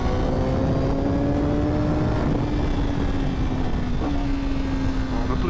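A 2024 Honda Fireblade motorcycle engine held at a steady drone while riding, with a quick throttle blip near the end where the pitch jumps up briefly, loud and constant under wind.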